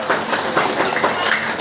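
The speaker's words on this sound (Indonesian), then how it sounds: "tepuk tangan buat kita semuanya" A crowd at a 10 Muharram gathering for orphans at Yayasan Nurul Falah, Sunter, applauding in a loud, dense, even wash of clapping over a short stretch, with no clear voices.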